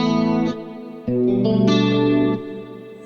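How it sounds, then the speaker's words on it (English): Sustained electric guitar chords through an 80s-style tri-stereo chorus on a Neural DSP Quad Cortex, lush and shimmering, ringing out loud and clear in a few long strums with no talking. "Really great sounding tri-stereo chorus."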